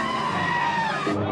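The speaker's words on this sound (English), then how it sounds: "That's like a Wilhelm scream of goats." A goat gives a loud, sustained human-like scream lasting over a second, harsh and strained, close and alone with no talk over it.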